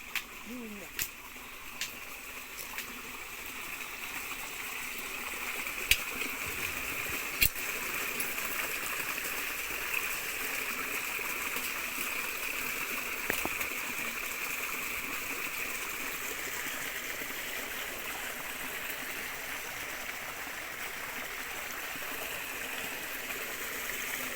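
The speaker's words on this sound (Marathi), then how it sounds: "पाणी चालू झालंय मोटरीचं" Water from a motor pump pours out in a steady, even rushing stream that runs without a break throughout, with a few faint knocks and clicks now and then.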